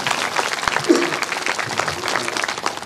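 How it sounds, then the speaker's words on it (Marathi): An audience seated at a Marathi kirtan claps for students, a steady, moderately loud wash of applause from many hands. "सगळ्यांनी टाळी वाजवली"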